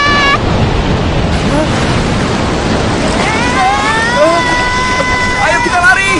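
Ocean waves surge in an animated learning cartoon, a loud steady wash of surf filling the whole stretch while high tonal voices or cries rise over it.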